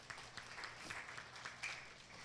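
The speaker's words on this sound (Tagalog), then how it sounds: "Wala bang palakpak para kay Jesus?" Applause from a church congregation during a sermon, a steady clatter of clapping hands lasting a couple of seconds at moderate distance with no speech over it.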